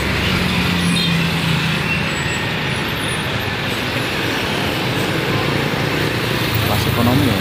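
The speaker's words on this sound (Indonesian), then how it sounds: "Dan ada bus dari Harapan Jaya via tol datang dari arah Tulungagung" Harapan Jaya economy-class bus pulling in along the toll road from the Tulungagung direction, a steady broad roadside rumble of traffic with engine drone throughout and a faint brake hiss, with people talking over it.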